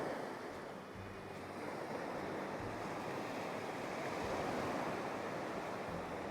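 Ocean surf washing steadily onto a beach at Koh Samet, a continuous broadband rush of breaking waves with some wind noise, fairly loud and uninterrupted, no voices.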